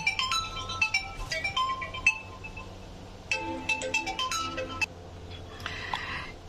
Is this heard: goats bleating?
no